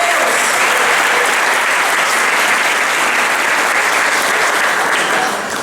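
A church congregation bursts into loud, sustained applause, a dense wall of clapping that holds for several seconds and eases slightly at the end.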